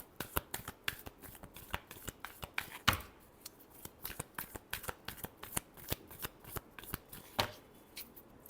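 Tarot cards being shuffled by hand, giving a brisk run of sharp riffling snaps and flutters in uneven bursts, close and crisp, with no one speaking.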